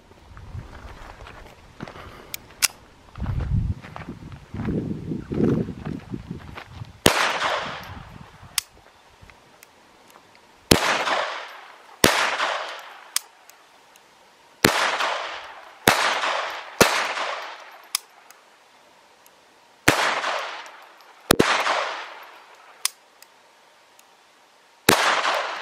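A Ruger SR22 pistol fired at an outdoor range, a series of sharp, loud single shots spaced irregularly over about twenty-five seconds, each with a short decaying echo, with quieter shuffling between the early shots.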